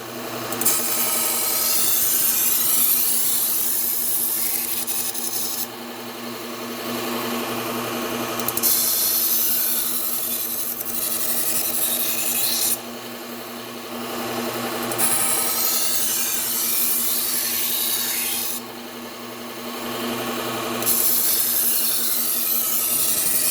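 A Wüsthof knife is sharpened on a Cubitron 120 abrasive belt with an angle guide, a loud continuous grinding whir that shifts in tone between passes, alone without talking.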